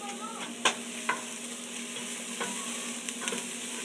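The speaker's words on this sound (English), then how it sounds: "we've let the peppers cook for a couple of minutes" Peppers fry in a pan for pumpkin chili, giving a steady, moderate sizzle with a low hum and several sharp spatula clicks and scrapes as they are stirred, and no talk.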